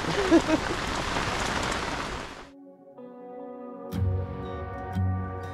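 Heavy rain drums loudly and steadily on a tarp in the Brazilian rainforest, a dense close hiss that stops abruptly halfway, leaving quieter tonal sounds and a few soft thumps.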